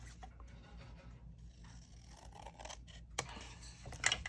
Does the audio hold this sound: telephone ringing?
no